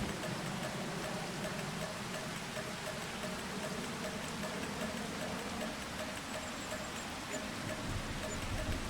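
Rain falling in Farming Simulator 25, a steady, even hiss of rainfall with a low engine hum beneath it, constant and fairly faint throughout.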